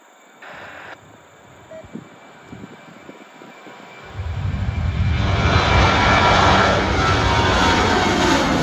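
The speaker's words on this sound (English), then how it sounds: "It's our Colleen Barrett Retro Gold livery 737-700." A Southwest Boeing 737-700 in retro gold livery at Cleveland Hopkins airport, its jet engines swelling from a distant whine into a loud, sustained roar as it passes, with rain and fog around.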